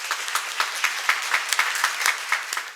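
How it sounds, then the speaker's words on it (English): An award ceremony audience breaks into applause, a sparse, crisp patter of individual claps with distinct peaks, moderately close and continuing steadily without voices. "Please join me in giving a thunderous applause to the Honorary Director of our foundation"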